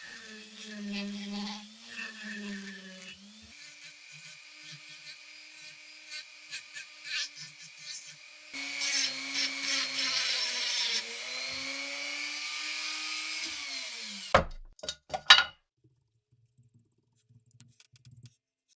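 A new wooden handle for a WWII-era Nepalese Gurkha kukri is shaped and sanded with a power tool. A close, whining whir shifts in pitch and load for about fourteen seconds, then cuts out, leaving a few knocks and near silence.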